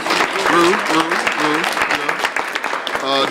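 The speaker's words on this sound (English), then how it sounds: "Y'all give him a round of applause, please." A seminar audience gives a round of applause, a loud burst of clapping from many hands that fills the room, with a voice speaking and calling out over it.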